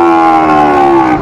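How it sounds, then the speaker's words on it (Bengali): Sahiwal cattle at a cattle market in Cumilla, one animal giving a loud, close, sustained moo that holds steady for over a second before tapering off. "গরুগুলো একটু দেখান তো ভাই।"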